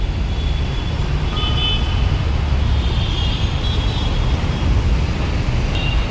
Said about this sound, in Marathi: ही आहे आमच्या इकडची घोडबंदर रोडची ट्रॅफिक